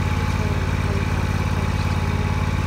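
A Husqvarna snowplow engine runs nearby with a loud, steady, rapid low thrumming. The idle stays even and unchanging, with no voices over it.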